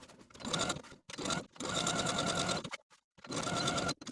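A sewing machine zigzag stitches yarn onto garment fabric, running close in several busy bursts of rapid needle chatter separated by short pauses.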